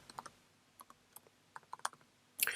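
Keys on a computer keyboard tap in short, irregular bursts of quiet clicks, close by, and end in a louder cluster of clacks.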